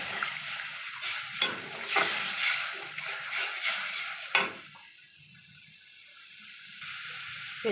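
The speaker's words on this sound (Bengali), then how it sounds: "এবার আমি জল দিয়ে দেবো" Water is poured into a hot pan of oil and spice paste for a fish curry, hissing and sizzling loudly at first, then settling into a softer, steady simmering hiss.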